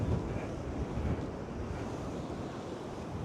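Storm waves from Storm Lilian at high tide crash on the shore, a continuous low surging roar mixed with strong wind buffeting the microphone, no voices.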